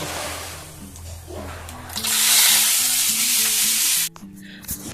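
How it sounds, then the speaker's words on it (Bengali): Onions with dried chilli, cumin and black cumin frying in a pan, a steady sizzle swelling louder midway with stirring scrapes, while someone talks throughout over a low hum. "দেখুন কেটে রাখা অন্তত তিনটে বড় বড় পেঁয়াজ দিয়েছি এগুলো সব ভেজে নেব"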